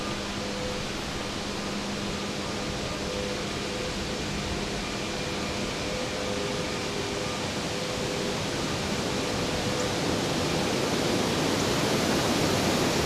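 A waterfall roars in a dense, continuous rush of falling water, loud and unbroken from start to finish.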